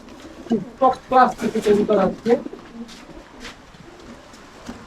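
Pigeons cooing in a box of newly bought birds, several soft, throaty coos in a cluster in the first half, close by, then quieter rustling with someone talking at times.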